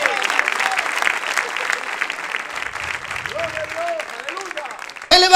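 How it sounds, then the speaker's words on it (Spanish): Congregation applause fills a Pentecostal church service, a steady clatter of many hands clapping together, with a voice speaking over it and a brief sharp sound at the very end. "Le damos un aplauso al Señor de alabanza en esta noche."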